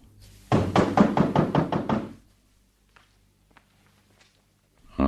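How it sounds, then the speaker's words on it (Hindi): Seven quick, loud knocks on a door in a Hindi radio drama come as a single even burst, followed by near silence with a few faint taps. "बेहतर है अब दरवाजा ही खटखटा दूं।"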